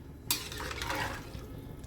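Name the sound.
stirring salt into matar pulao in pressure cooker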